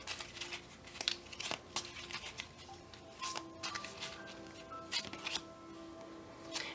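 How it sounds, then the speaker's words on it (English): A tarot card deck is shuffled close up, with repeated soft riffling, crinkling and flicking bursts in an irregular rhythm and no talk. "we will shuffle."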